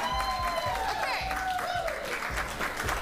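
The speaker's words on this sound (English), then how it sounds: "Give me applause if you like this song" Studio audience of a daytime talk show applauding after a song, clapping and crowd noise under music with sustained tones, moderately loud throughout.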